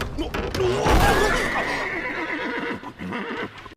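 A horse pulling a carriage in an anime gives a loud, close whinny, followed by clattering hooves and carriage movement. Some voice and background noise sit underneath.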